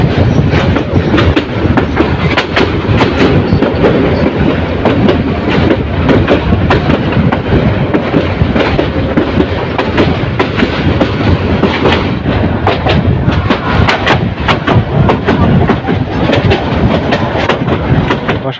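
Bolaka Commuter train between Gafargaon and Mymensingh rounding a long curve, a loud steady rumble with continuous rapid clickety-clack of wheels over rail joints throughout, close and unbroken.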